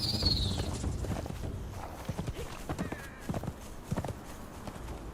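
Horse hooves in Conan Exiles: steady, moderately close clip-clop steps of a horse walking over a low outdoor rumble, with a brief high whinny-like tone at the start.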